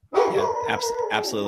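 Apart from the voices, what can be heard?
dogs barking outside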